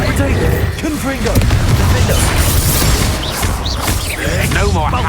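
In the Hogwarts Legacy video game, a Confringo blast spell explodes in a loud, booming burst with crashing debris and sustained rumble, while voices talk over the chaos.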